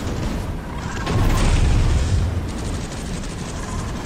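Booming gunfire and explosions from the Space Hulk video game, a dense, loud rumble that swells in the middle of the clip and holds steady without any talk.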